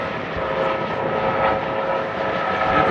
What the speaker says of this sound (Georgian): აგა ვერტალიოტი ძმა